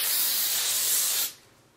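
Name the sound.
hairspray being sprayed onto hair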